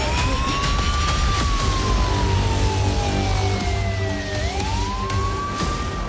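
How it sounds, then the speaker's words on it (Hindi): Emergency sirens wail across a Ukrainian city, a loud rising-and-falling tone sweeping steadily over a low traffic rumble, with one dip and climb near the end and no voices. "अचानक यूक्रेन के कई शहरों में सायरन बज उठे।"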